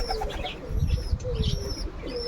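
Village pigeons coo in soft, low rolling calls, several birds close by with a faint chirp and light fluttering in the background.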